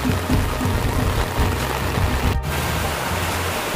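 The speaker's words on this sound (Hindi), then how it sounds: "आप लोग देख सकते हो कि कितने तेज़ बारिश हो रहे है" Heavy rain pours steadily on a street during the Durga Puja festival, a dense continuous hiss with low rumble throughout, briefly cut near the end.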